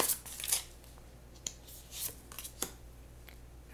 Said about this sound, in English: let's shuffle a little bit more, get a little bit deeper